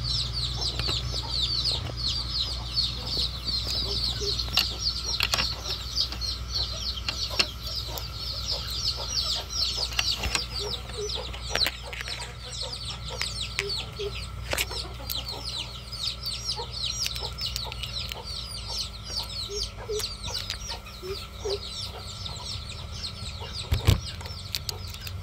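Chickens in a poultry farm coop cluck and chatter steadily as the door is unlocked, a dense chorus of many birds nearby with occasional wing flaps and metallic knocks over a low hum.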